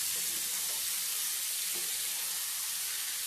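Chicken sautéing with masala in a pan for restaurant-style chicken handi, a soft, continuous hissing sizzle at low level without distinct stirring hits.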